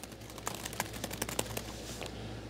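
A voice imitating rapid keyboard typing: a quick, uneven run of soft clicks and taps, close and fairly quiet, with no words spoken.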